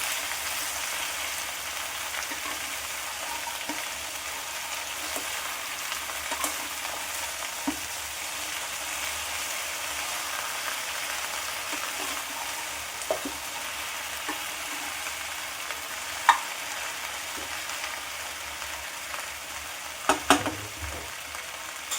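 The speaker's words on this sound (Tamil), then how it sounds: "நம்ம நல்லா சுருள எண்ணெயில நல்லா வதக்கணும்." Sliced okra frying in hot oil for a coconut poriyal, a steady close sizzle and crackle with occasional light clinks of a spoon stirring the pan, no voices.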